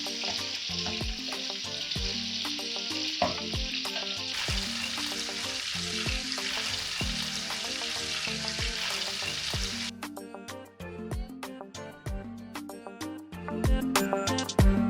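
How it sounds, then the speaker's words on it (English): Chicken gizzards fry in a pan for gizdodo, a loud, continuous oily sizzle with rapid crackling, later joined by clinking stirring and scraping near the end. "now I'm going to fry these until it's perfectly brown"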